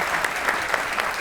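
A studio audience claps together in steady, rhythmic applause during a television talk show, a dense, fairly loud burst with regular accented beats and no voices over it.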